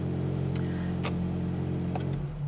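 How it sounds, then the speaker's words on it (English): A 2022+ Subaru BRZ / Toyota GR86 engine runs steadily at a close, even idle, with a deep constant hum and a few faint ticks, and no voices. "start up the car"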